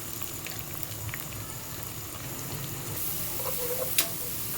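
100 grams of sliced onions frying in hot ghee, giving a soft, continuous bubbling sizzle with a brief brighter crackle near the end.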